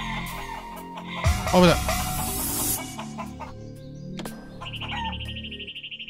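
Chickens in the video game Shenmue III cluck and squawk in a loud burst, followed by scattered chirps and a steady electronic tone, while someone talks over the game sounds.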